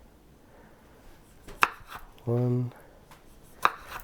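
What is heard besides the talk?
knife cutting vegetables for beef soup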